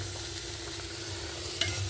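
Oil sizzles steadily in a pan while chutney ingredients are sautéed, a continuous close hiss with faint stirring scrapes and one brief utensil tap near the end.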